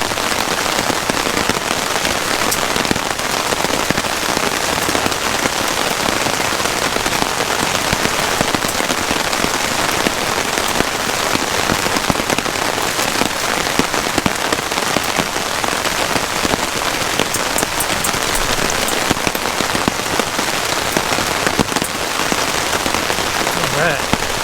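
Torrential rain drums hard and without a break on a hot tent in 40 mph winds. The patter is dense, loud and close, with gusty rushes and occasional sharp cracks of drops on the fabric.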